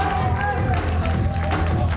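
A darts crowd at the 2020 World Championship cheers and applauds after Evans levels the match at two sets each. The dense, steady clapping and shouting is loud and close, with a voice talking over it.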